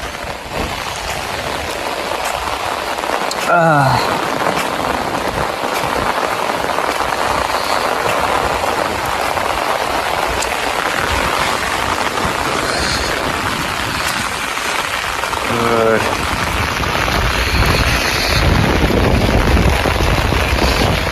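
Heavy rain pours steadily during a windy, all-day storm at a rural home, a dense, loud, continuous hiss of drops with no pauses throughout.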